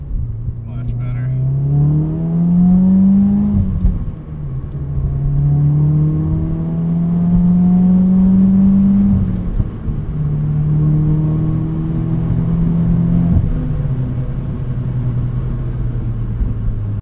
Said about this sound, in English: So we've now finished our test drive of the 2020 Subaru WRX.